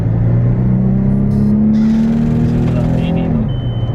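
A base-model Porsche Panamera with a V6 and PDK gearbox pulls hard, its engine note climbing steadily before a gear change drops the pitch, loud and close from inside the cabin.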